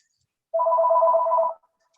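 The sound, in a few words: telephone ringing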